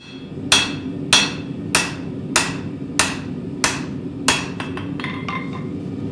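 A hammer forges the bevel of a dagger blade, striking steel in seven evenly spaced, ringing blows followed by a quicker run of lighter taps, close and loud with no talk.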